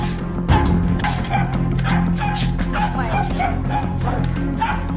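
Husky dog indoors in a house barks and whines repeatedly in short yelps, close by and fairly loud, with people's voices and shouting mixed in.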